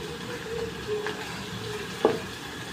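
Ginger-garlic paste and onions fry in hot oil in a kadhai, giving a soft steady sizzle with light stirring and one sharp clink, close and moderately quiet.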